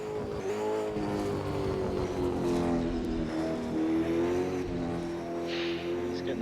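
A Penrite Racing car runs on track at a Super 2 Series round in Perth, its engine note loud and sustained throughout, with steady harmonic drone and a few shifts in pitch as it drives.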